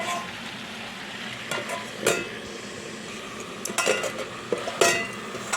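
Water spinach (kalmi) stems cooking as a chorchori over medium heat give a steady sizzle, broken by a few scraping stirs and light clinks against the pan, heard close with no talking.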